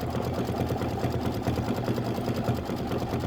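A sewing machine stitches down vinyl pieces with blue thread for a Kimberbell autumn quilt project, a fast, steady mechanical hum and rapid needle rhythm running alone and close.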